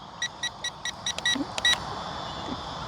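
A series of short, high electronic beeps from an XK A280 RC model plane, about a dozen evenly spaced chirps over a quiet background hum, close and fairly loud.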